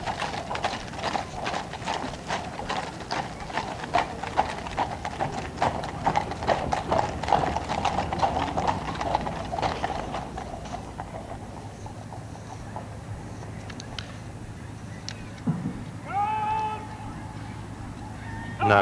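Horse-drawn carriages in a Trooping the Colour parade roll past with steady clip-clopping hooves over a crowd murmur, the hoofbeats loud at first then fading, with a few distant honking calls near the end.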